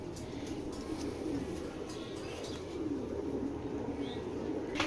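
Pigeons coo softly in a loft or coop, several low rolling coos repeating over a faint background hum, with a few brief chirps and clicks nearby.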